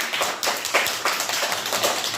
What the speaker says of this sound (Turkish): Evet, hala büyük alkış.